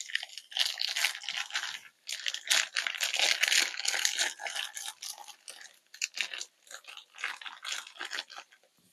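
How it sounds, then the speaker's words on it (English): Tofurky plant-based chicken pieces tumble into a skillet with a dense, crackly rustle and crunch, close up, in bursts across several seconds with brief pauses and no talking. "And we're going to add that to the skillet."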